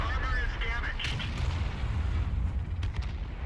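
In World of Tanks, a tank cannon fires and an enemy tank blows up, a loud booming blast with rumbling low-end reverberation that fills the moment, followed by scattered crackling impacts.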